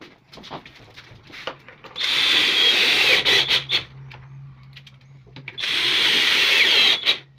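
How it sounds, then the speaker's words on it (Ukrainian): The back panel of a baby changing table is fastened with a power screwdriver in two loud whirring bursts of a few seconds each, with clicks and handling noises between them. "Прикручуємо задню стінку нашого пеленального столика."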